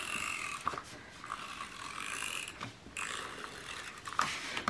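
A tape runner pulled along the edge of a paper flap on a handmade mini album, a series of soft ratcheting clicks and scratchy rasps in short bursts, close and quiet.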